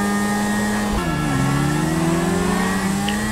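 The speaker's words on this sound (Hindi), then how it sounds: "सुपर बाइक है ये तो।" A BMW superbike engine drones loudly and steadily up close. Its pitch dips sharply around the one-second mark, as if shifting gear, then climbs again under sustained revving with no voices.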